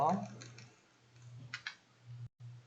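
Computer keyboard keys are pressed while working in Illustrator, a few soft scattered clicks in a quiet room, mostly alone with faint voice at the start.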